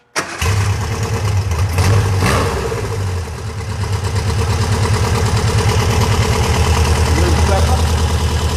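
An Alpine car's engine cranks and catches, then settles into a loud, steady rumbling idle close by, with voices talking over it.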